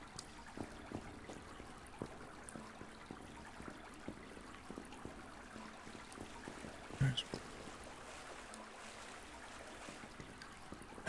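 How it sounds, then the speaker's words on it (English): Faint, steady watery sloshing from someone wading through water in the survival game Subsistence, with soft irregular splashes and one slightly louder splash midway, heard alone at a distance without talk. "That sounds like somebody walking in the water."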